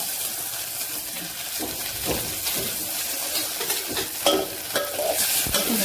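Chopped onion sautéing in oil in a pan after cumin, a steady crackling sizzle broken by repeated scraping stirs of a spoon, close and continuous.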